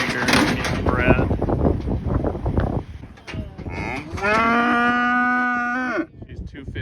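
Ranch heifers moo loudly and close by, a long drawn-out bellow rising over a shorter earlier call, with people talking briefly at the start amid rustling and clattering from the cattle pen.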